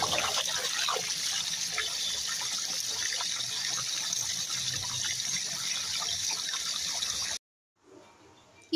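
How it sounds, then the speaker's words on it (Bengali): Running water splashes and trickles steadily while clothes are washed at home, a close, continuous wash of sound that cuts off abruptly near the end, leaving brief faint noise. "তো কাপড়গুলো ধুই"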